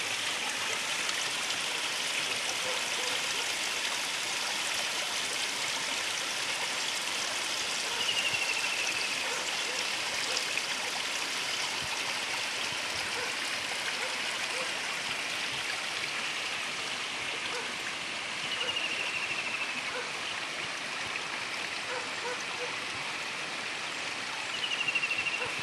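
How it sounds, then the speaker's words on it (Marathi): A village stream, swollen after a night of heavy monsoon rain, rushes in a steady broadband roar that never stops, with a few faint high squeaks far off. "त्यामुळे पर्याला पण पाणी सुटले."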